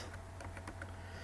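Typing on a computer keyboard heard as a few faint, quick key taps over a steady low hum, with no talk.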